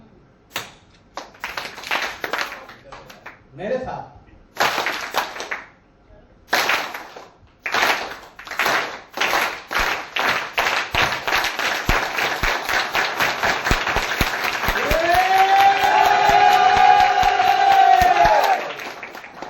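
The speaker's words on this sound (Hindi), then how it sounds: "चलो एक बार आप लोग को ना ताली बजाना सिखा देता हूँ, ठीक है?" An audience taught to clap in unison at a Hindi sales meeting, starting with a few scattered claps after a man's brief spoken prompt, then building into a steady, rhythmic, accelerating group clap that swells louder toward the end, with cheering rising on top.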